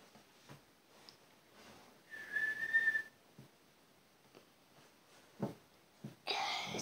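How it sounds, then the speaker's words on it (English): A man whistles a single sustained tone of about a second, heard at a moderate distance over a quiet room with a few faint knocks and rustles before and after. "the man that was whistling that you absolutely heard"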